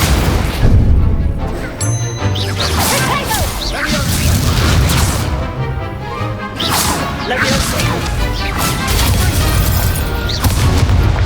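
The Incendio fire spell is cast in Hogwarts Legacy, mixed with other spells. Repeated whooshing bursts and heavy booms come in quick succession, loud and close, with a voice over them.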